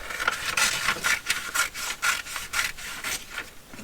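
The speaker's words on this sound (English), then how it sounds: "Okay, so now I'm just going to trim this side off." A cutter rasps repeatedly through the thick edge of a handmade index-card packaging booklet, a close, steady run of scraping strokes with no voices.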